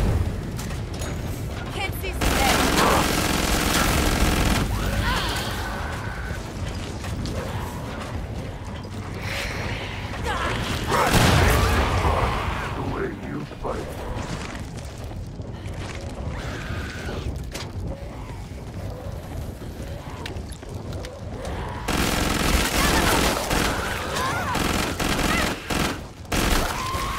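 Sustained gunfire in Killing Floor 2 during a solo SWAT run on hard difficulty on the Farmhouse map, a dense continuous rattle of shots over rumbling game noise, with a person talking throughout.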